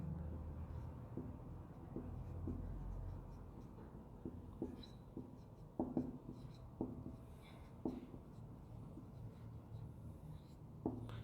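Marker or chalk writing a chemistry definition on a classroom board, heard as a run of short scratchy strokes and taps with irregular spacing, moderately close against a quiet room, with no talking.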